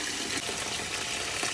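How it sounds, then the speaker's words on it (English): Beans for moi moi are rinsed in water, producing a continuous close-up wash of splashing and sloshing liquid at moderate volume with no voices. "I like to wash my beans until the water is clear."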